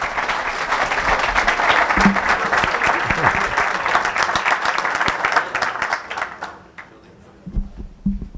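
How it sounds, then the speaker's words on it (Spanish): Audience applause for Dr. William Harper at the close of a lecture on carbon dioxide: dense, sustained clapping from a crowd for about six seconds, then tapering off into scattered claps and murmurs. "Un fuerte aplauso para el doctor Haber."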